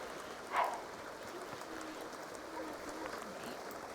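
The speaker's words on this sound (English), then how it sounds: "If I set the weather to be rainy, pause weather rain, and then have them go outside" Rain in The Sims 2 makes a steady, faint hiss that runs through the whole stretch, with one brief louder patter near the start.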